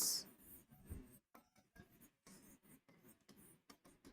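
Marker or chalk scratches across a board as a line of text about angles is written in a physics lesson: intermittent short strokes, faint and close, with brief pauses between words.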